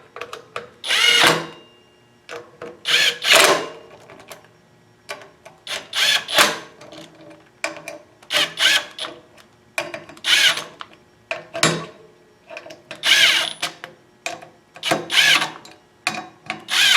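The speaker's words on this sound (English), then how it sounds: "I'm going to use the impact wrench to tighten these down" Impact wrench tightening brake disc bolts on a 2008-2018 Kawasaki KLR 650 motorcycle, a series of short sharp hammering bursts repeated many times with quiet gaps between, close and loud.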